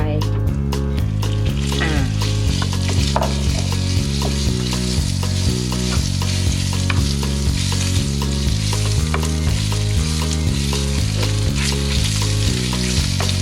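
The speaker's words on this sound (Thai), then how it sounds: "ผัดให้หมูสุกนะคะ" Pork stir-frying in a pan with light soy sauce for a ginger pork dish, a steady loud sizzle running throughout with the scrape of stirring, while rhythmic background music plays underneath.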